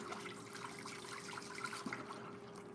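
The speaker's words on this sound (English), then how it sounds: "So let me just rinse my one hand." Tap water runs steadily into a kitchen sink as a hand is rinsed under it, a continuous close hiss and splash with no talk.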